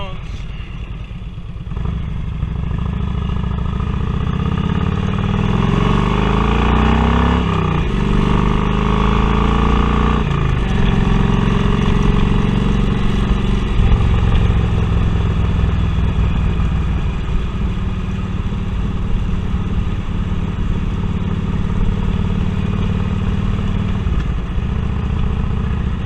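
A Harley touring V-twin with new dumper exhaust pipes rumbles loudly and continuously on a ride around the block, the throttle rising and falling through gear changes, with some talk over it.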